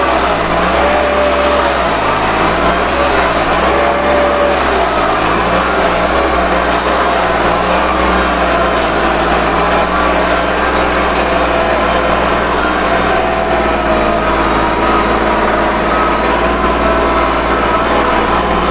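A Kubota or Iseki two-wheel walking tractor engine runs nonstop, a loud, close, steady mechanical chugging drone with a faint wavering whine on top.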